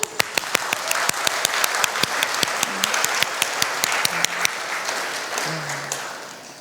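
A church congregation claps for the Lord, sharp close hand claps landing in a quick steady rhythm for several seconds, with no talking over them.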